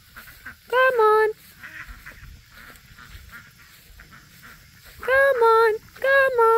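Ducks being herded into shelter at night give two loud bursts of rapid nasal quacks, one near the start and one near the end, with quiet stretches between and people calling out around them.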